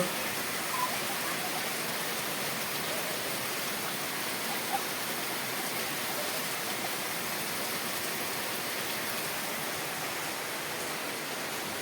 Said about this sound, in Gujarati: ઘરે પણ વરસાદ એકદમ વધી ગયો ફૂલ વરસાદ પડે છે